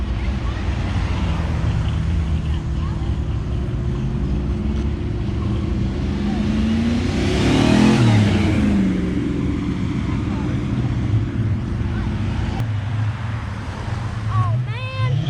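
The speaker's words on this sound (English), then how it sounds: "There goes another Mustang." A Ford Mustang passes at a car gathering, its engine roar swelling to a peak midway then fading, heard over constant wind and crowd rumble near the microphone.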